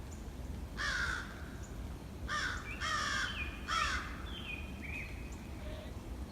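Several harsh caws from crows attacking owl parents in Eberwhite Woods, coming in the distance in a loose series of four or five calls over a steady background hiss.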